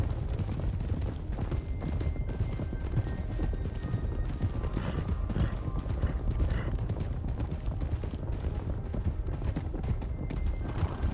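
Horse hooves clip-clopping during a ride in the RedM roleplay game, a steady rapid rhythm of hoof strikes continuing throughout at a low, even level.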